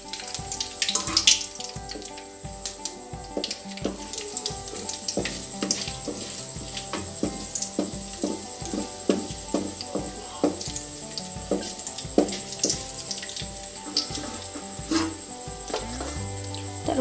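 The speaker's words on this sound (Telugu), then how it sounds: "ఆయిల్ హీట్ అయ్యాక ఈ పోపు దినుసులు వేసుకోవాలండి." Tempering spices sizzling in hot oil in a pan for mango chutney, a dense continuous crackle and hiss with rapid popping, steady and close throughout, no voices.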